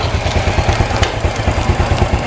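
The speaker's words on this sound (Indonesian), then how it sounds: "ini kan motor aku." A motorcycle engine idles nearby with a steady, throbbing low rumble and a loud, rough putter.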